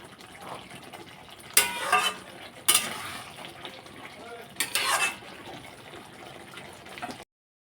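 Masala for a bhagna fish curry being stirred and fried in a pan after the lid comes off, with a low sizzle broken by three loud bursts of scraping and clattering utensil strokes against the pot.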